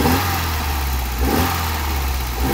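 Carbureted Alfa Romeo 75 engine idling roughly, running rich just after a cold start, a close, steady low rumble with slight uneven pulses.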